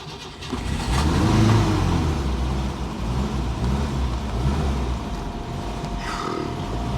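A vintage Peugeot 404 engine cranks and catches, then revs up and settles into a rough, steady idle close by.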